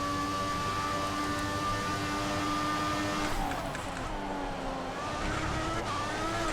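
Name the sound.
turbo whistle of racing car in video game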